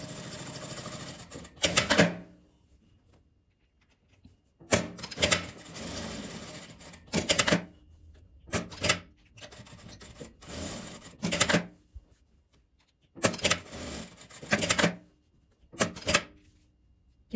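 Short bursts of sewing machine stitching around a fabric circle start and stop repeatedly, each lasting about a second, with quiet pauses between them.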